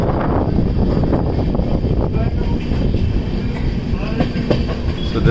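A train rolls along rails at a station in Kumta, India, a loud continuous rumble with rhythmic wheel clatter and occasional squeaks throughout.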